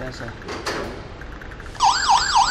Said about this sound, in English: Now the alarm panel is on. We hear DD sound.